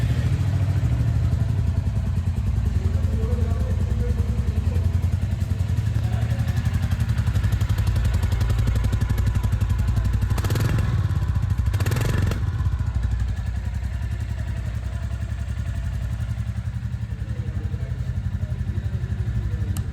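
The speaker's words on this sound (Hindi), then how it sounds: "कैसा साउंड है इस बाइक का।" 2026 Royal Enfield Classic 350 base model idling nearby with a steady low thumping beat, two brief blips of revving midway, loud and without talk.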